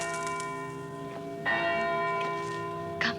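A church bell rings with a sustained, resonant tone, struck again midway and once more near the end, each strike blooming over the lingering hum in a quiet setting.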